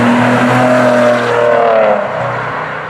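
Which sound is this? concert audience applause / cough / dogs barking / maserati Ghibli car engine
maserati Ghibli car engine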